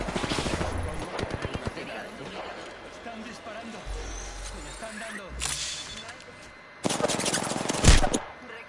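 Gunfire in Apex Legends, with rapid automatic bursts at the start and heavier volleys near the end, separated by quieter stretches. A voice talks over it.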